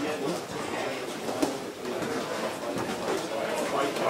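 Pigeons coo softly amid a busy, murmuring crowd at a pigeon breeder's open day where birds are sold, their low calls mingling with chatter and market bustle.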